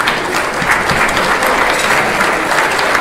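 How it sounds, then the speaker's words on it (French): A crowd claps loudly and steadily, a dense wash of applause that stays even from start to finish. "Ça me demande une main d'applaudissement de la part des gens ici"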